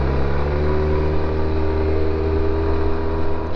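A Honda Silverwing automatic scooter engine while riding, a loud, steady, close droning hum with a constant pitch and no gear changes, wind noise mixed in throughout.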